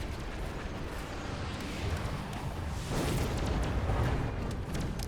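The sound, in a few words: missile strike explosion in video game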